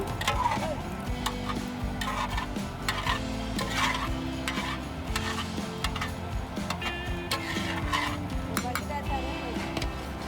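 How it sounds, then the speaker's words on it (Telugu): Cooked dal is stirred into a pot of spinach and raw mango, with rhythmic ladle clinks and scrapes against the metal over a low bubbling sizzle, close and steady without speech. "ముందుగానే ఉడకపెట్టుకున్న పప్పు ఇందులోకి వేసుకోవాలి"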